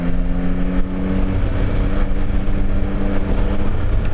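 A Yamaha Tracer 9 sport-touring motorcycle runs at a steady cruise, a loud, close engine drone with low rumble and broad wind roar, unbroken and without talk.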